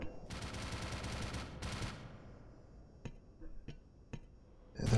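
Automated turrets in the game Black Mesa open fire in two dense bursts of rapid gunfire, about a second apiece, followed by a few sharp, isolated shots and clicks.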